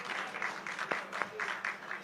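An audience at a Hindu religious gathering claps in a steady patter at moderate distance, with a few sharper louder claps standing out and faint voices mixed in.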